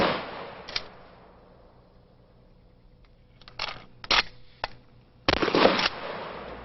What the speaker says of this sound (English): Now let's look at the firing characteristics of these conventional rounds.